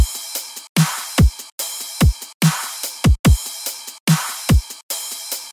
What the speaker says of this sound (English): Altogether, your drums will sound like this.